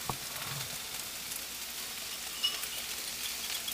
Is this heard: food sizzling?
yes